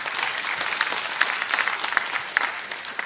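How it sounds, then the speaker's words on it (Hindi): Brief, steady applause from the audience at a West Bengal BJP meeting of newly elected legislators, an even wash of many hands clapping for a few seconds. "ताली बजाओ जरा"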